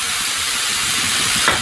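Mutton pieces hit a hot, dry, oil-free pan, making a loud, continuous hissing sizzle close up that holds steady for the whole moment with no talk.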